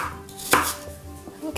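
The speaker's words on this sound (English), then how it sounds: "we're going to chop up some apples and get that all prepped" A knife chops crisp Pink Lady apples on a board, making one sharp close thunk followed by a few lighter taps.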